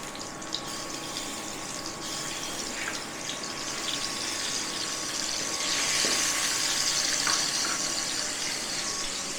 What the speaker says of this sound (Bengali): সরষে তেল বসিয়েছি, তেলটাও গরম হয়ে গেছে। তেলটা গরম হয়ে গেছে, দিয়ে দেবো ডিমটা।